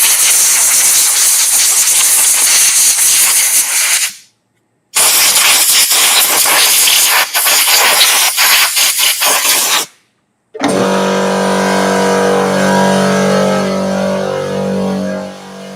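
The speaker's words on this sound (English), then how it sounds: "The compressor's going to kick in. There's going to be a loud noise." An air compressor goes off with a loud, broad hiss of escaping air that is cut by two short silences, then turns into a steady droning hum with a mechanical tone.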